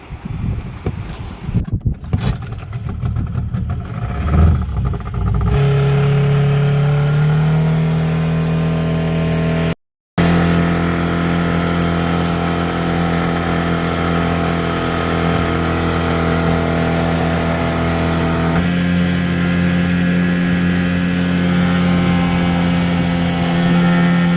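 A fishing boat's engine drones steadily as the boat heads back to shore with its catch, a loud continuous hum with strong low harmonics, choppy wind-buffeted noise at the start and a brief dropout midway.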